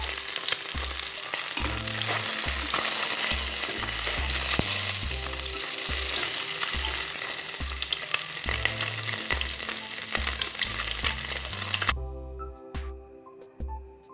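Fish frying in a pan for an Assamese fish curry, a loud steady sizzle and crackle of hot oil, with background music playing along and the frying fading toward the end.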